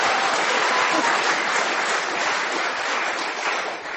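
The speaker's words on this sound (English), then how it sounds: "I don't know why you're clapping." Studio audience at a radio panel comedy show bursts into sustained applause, a thick continuous roar of many hands clapping at full strength for the whole four seconds, easing only slightly at the very end.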